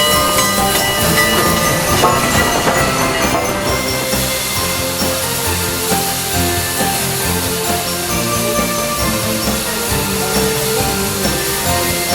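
Southern Pacific Class GS4 steam locomotive number 4449, built by Lima Locomotive Works, rolls past loud and close in Portland, Oregon, with a steady roar, hiss and rhythmic clatter of wheels and cars.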